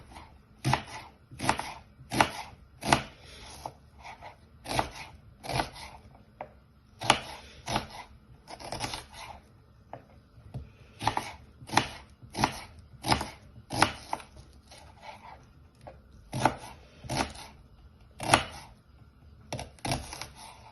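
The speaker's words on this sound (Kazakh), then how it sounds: "Етіміз қайнағанша біз пиязымызды турап қоямыз." Knife chopping onions on a cutting board, close and crisp, with quick bursts of sharp taps broken by short pauses and no talking.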